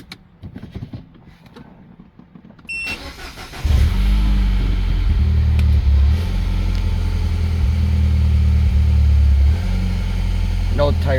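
A 2013 Mini Cooper JCW R58 starts with a sharp crank, then settles into a loud, steady, close idle with a deep rumble that holds for several seconds; faint handling noises come before the start.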